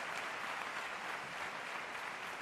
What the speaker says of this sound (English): Megan Duhamel leading the applause